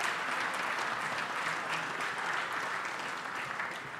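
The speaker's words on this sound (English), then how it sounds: "I think we need to give Scooter a round of applause" Dense, steady applause from an audience at a university athletics press conference introducing a new hockey coach, a continuous wash of many hands clapping that holds for about four seconds and tapers slightly at the end.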